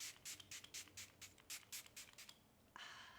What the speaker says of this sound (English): I'm going to set my face with Makeup Forever setting spray